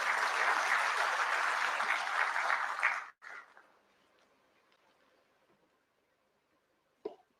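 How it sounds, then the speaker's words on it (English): Audience applause at a Kenyan investment conference in Murang'a, steady broadband clapping for about three seconds that cuts off abruptly, followed by quieter room noise and a brief thump near the end. "Can we clap for Dr. James Mwangi?"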